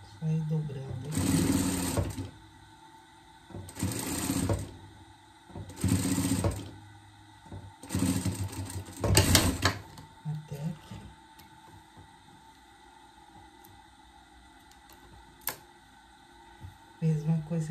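A sewing machine stitches a hem on a pet costume in several short bursts of rapid whirring with pauses between them, while a person talks quietly during the gaps.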